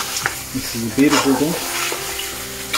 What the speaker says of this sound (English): Now I'm gonna let it fry the spice for a few seconds.